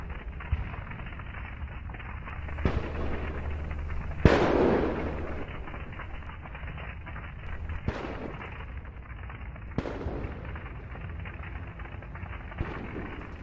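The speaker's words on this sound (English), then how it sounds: "HIMARS destroy so many military vehicles. Fire everywhere. Shell detonation, smoke." Explosions and shell detonations ripple through a burning Russian military convoy hit by HIMARS strikes, with several sharp cracking blasts spaced seconds apart over a continuous crackling, rumbling fire background.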